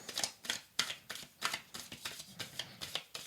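Tarot cards being shuffled and drawn, a close series of rhythmic riffling bursts and soft slaps repeating roughly every half second.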